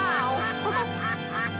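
Cartoon quacking from Toopy and Binoo, a short run of three or four nasal duck quacks in quick succession over a soft sustained musical drone, fairly close and moderately loud.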